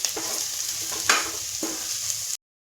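A spoon stirs sizzling masala for chicken in a hot pan as homemade Kolhapuri red chili powder is mixed in, with a steady fry hiss and about three short, close scrapes.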